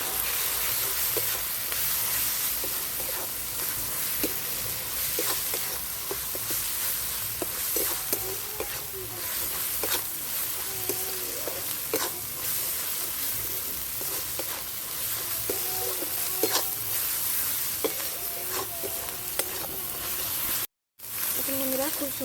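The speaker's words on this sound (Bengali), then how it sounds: "খুব সুন্দরভাবে মশলাটা কষা হয়ে গেছে, তাই দিয়ে দেখুন তেলটা ছেড়ে যাচ্ছে" Turmeric and Kashmiri chili powder masala sautéing in oil in a pan for a banana recipe, with a steady close sizzle and frequent scraping stirs, under a voice talking throughout.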